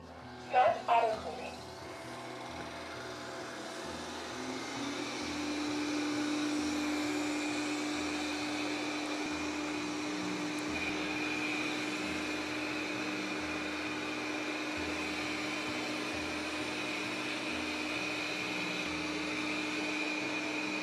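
A Proscenic M8 Pro robot vacuum cleaner starts up and runs, giving a steady, moderate whirring hum that holds for about fifteen seconds after a few brief clicks at the start, with no one talking.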